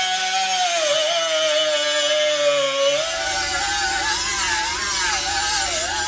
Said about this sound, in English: we're going to start to take the zip disc and we're going to cut it along this edge